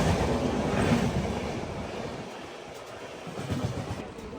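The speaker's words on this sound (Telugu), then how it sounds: "ఇప్పుడు ఒక ట్రైన్ వెళ్ళింది కదా" Tatanagar Yesvantpur Weekly Express train passing close by, a broad steady rumble and rush with wind buffeting the microphone, louder early then easing as it moves off.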